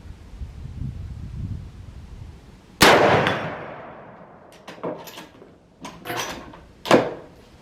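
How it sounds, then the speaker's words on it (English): A rifle fires one loud, sharp shot outdoors while its sight is being zeroed, and the crack trails off slowly. Quieter clicks and clacks of handling follow. "he wants to shoot a couple of rounds"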